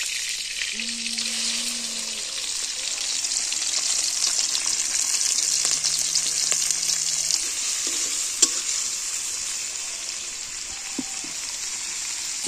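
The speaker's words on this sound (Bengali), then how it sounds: "পটল ভাজার তেলে আমি চিংড়িটা দিয়ে দেবো।" Prawns dropped into oil left over from frying pointed gourd give a steady, loud, hissing sizzle that carries on evenly throughout, with only a couple of faint clinks and no voices.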